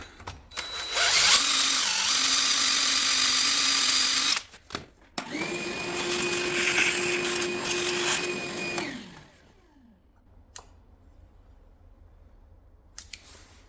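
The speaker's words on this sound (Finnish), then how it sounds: "siellä olisi nyt kierrereikä porattuna" A power drill boring a threaded hole in a Volkswagen Polo engine part whines loudly in two long bursts with a short pause between, its pitch sliding down as it winds to a stop, then quiet.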